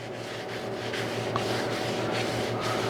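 Rag soaked in wood finish rubbed steadily into cherry wood, a continuous close scrubbing texture with faint periodic strokes over a steady low hum.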